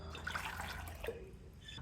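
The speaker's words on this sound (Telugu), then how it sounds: "కొంచెం వాటర్ వేసుకుందాం" Water poured into a pot of tamarind rasam, a short soft splashing trickle heard up close with nothing else around it.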